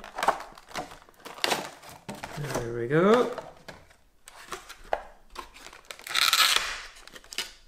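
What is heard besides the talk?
model locomotive packaging being opened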